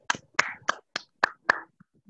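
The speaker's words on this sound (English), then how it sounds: "Please give her a big round of applause." A single participant in an online Toastmasters meeting claps close to the microphone: six sharp, separate hand claps in quick, slightly uneven rhythm, then a faint trailing tap, with silence between the hits.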